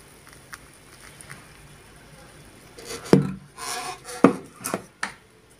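Cake batter is stirred in a bowl after liquid ingredients are poured over the dry ones: quiet at first, then several sharp spoon knocks and scraping, sloshing bursts up close.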